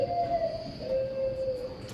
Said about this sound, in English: Morning dove.